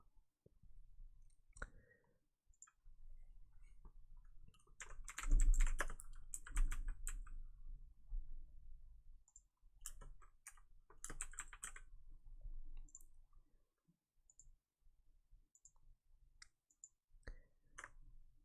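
Someone types on a computer keyboard while writing C++ code, irregular bursts of clicky keystrokes with pauses between, heavier flurries in the middle, close and moderately quiet, with no talking.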